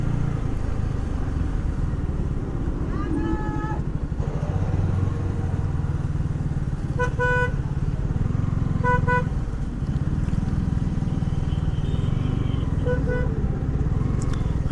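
Car horns toot in short repeated bursts over a steady rumble of engines in a traffic jam on an Indian road where tractors block the way, near and fairly loud.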